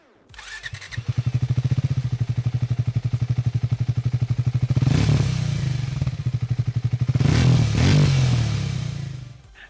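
A Triumph Speed T4 400cc motorcycle exhaust sits in a steady, deep, rapid thumping idle, then is revved twice in quick swells before settling back. The sound is loud and close, with no talking.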